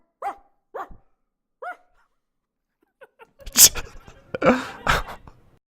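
A dog barks three times alone at a distance, followed by a burst of louder, clustered barks mixed with scuffling noise.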